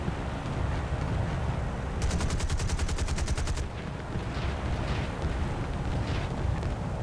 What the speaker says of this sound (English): Oh, now they're shooting at me.